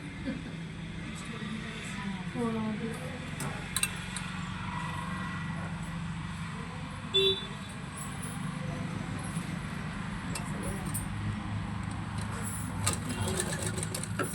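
A sewing machine runs in a steady, quiet whir while stitching a double-folded hem on a baby frock. A few small clicks and handling sounds break in along the way, and a voice talks quietly at times.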